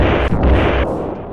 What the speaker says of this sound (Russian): Вы только послушайте, какие тут взрывы.